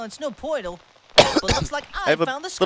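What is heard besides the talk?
cough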